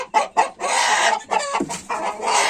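Ornamental roosters and hens clucking and crowing close by, a series of loud, overlapping calls with short gaps between bursts, with no talk.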